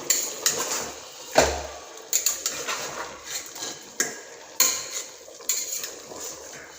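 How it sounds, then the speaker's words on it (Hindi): A spoon stirs green chili paste into mutton curry in a metal pot, with repeated loud clanks and scrapes against the pot over a soft sizzle, in an uneven rhythm. "और इसको हम अच्छी तरीके से मिलाएंगे"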